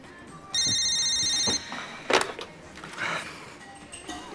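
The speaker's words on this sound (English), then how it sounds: "You can answer the phone." A telephone rings with an electronic ringtone in one loud, steady burst of about a second, followed by scattered clatter and indistinct background sounds from a school setting.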